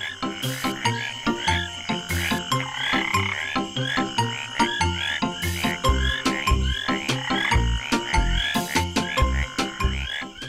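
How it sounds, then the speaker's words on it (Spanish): Tree frogs croaking in a steady, rhythmic chorus of repeated loud calls, close and dense, with no talking. "Otro caso fascinante es el de la rana de árbol"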